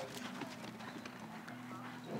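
Horse hooves clip-clopping at trot and canter during an Icelandic horse breeding show, a steady run of fairly quiet, evenly spaced beats with an announcer talking over them.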